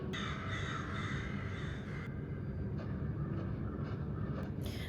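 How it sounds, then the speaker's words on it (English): Crows caw repeatedly in a TV show scene from The Last of Us, their harsh calls spread through the clip over a steady, loud low rumble. No one speaks. "The birds are flying"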